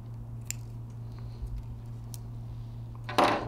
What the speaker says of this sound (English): If you have a center spline or tape, make sure you cut that out.